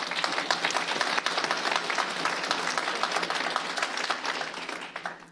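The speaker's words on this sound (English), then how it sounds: "Can we give her a huge round of applause?" A crowd applauds steadily throughout, dense clapping at an even, full level with no pauses, at a school board meeting.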